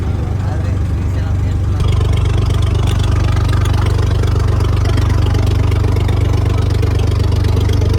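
A boat engine drones loudly and continuously on a dam reservoir at Srisailam, with water churning and a voice talking over the steady rumble.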